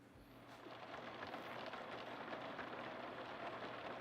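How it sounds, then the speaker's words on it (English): Steady, faint rain falls in a video game, a soft continuous hiss that holds evenly throughout with no talking. "Oh, it's raining."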